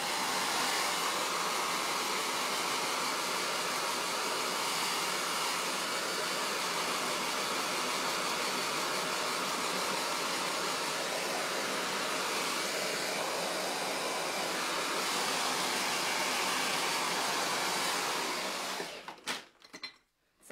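A hair dryer blows steadily on a door knocker coated in chalk paste, a loud, continuous whooshing hum that runs unbroken up close before cutting off abruptly at the end.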